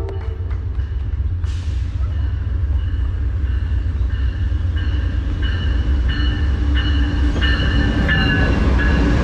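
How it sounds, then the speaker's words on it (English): A train rolls past nearby, a loud, steady rumble with rhythmic clatter and ringing tones that runs through the whole stretch, starting with a sharp burst of noise. "Wave the train."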